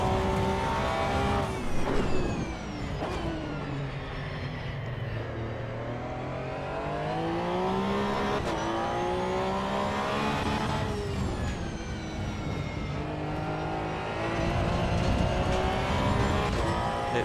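A race car engine in the Assetto Corsa EVO video game drives continuously, revving up and down through the gears with a loud, close, sustained whine and roar.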